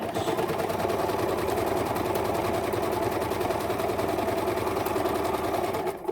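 A sewing machine runs a straight stitch through a wool cover, a loud, close, fast rhythmic mechanical whir that holds steady for about six seconds before cutting off.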